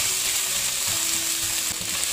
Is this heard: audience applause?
no